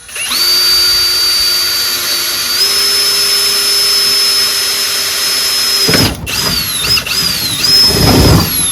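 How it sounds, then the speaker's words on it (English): A handheld power drill bores a hole in a Craftsman 13.5HP 30-inch riding mower, a steady high whine for about six seconds, then a few short starts and stops as the bit catches, no talk. "I'm just going to drill a hole here"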